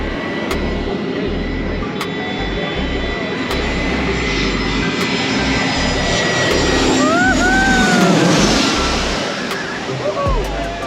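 A jet airplane roars loudly and low overhead in St. Martin, its engine noise swelling and then fading, with wind and a few bird calls mixed in.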